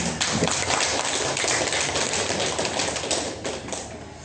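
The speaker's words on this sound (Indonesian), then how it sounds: "Tepuk tangan yang terbaik untuk anak-anak kita." An audience at a primary school farewell for sixth-grade students claps in a loud, dense burst of many hands, steady throughout and alone without talk.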